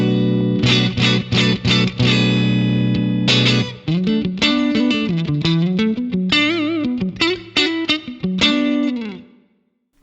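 An electric guitar plays through an Axe-Fx III clean twin amp model with legacy cabs in stereo, light reverb and compression: strummed chords, then picked single notes and a short melodic run, loud and ringing before fading out.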